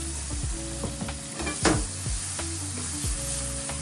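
Onions fry in a pan with butter after chicken burgers, giving a close, crackling sizzle broken by repeated scraping stirs of a utensil against the pan, with one sharper clatter midway and no voices.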